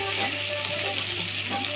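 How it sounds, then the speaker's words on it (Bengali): Turmeric, chili powder and ground cumin fry in a hot pan with a steady, close sizzle and faint scraping from stirring, all very brief. "একটু ভেজে নিই"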